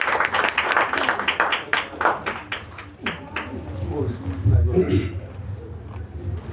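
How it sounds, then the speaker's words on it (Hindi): An audience at a Hindi poetry gathering claps in rhythmic unison for a few seconds to welcome a poet, the applause fading out before a person begins speaking. "किसी कवि को हम आमंत्रित करते हैं तो तालियों से स्वागत कीजिए उनका।"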